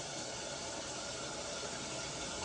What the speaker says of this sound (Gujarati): આ નાખ્યા બટેકા તેલમાં હો સીધા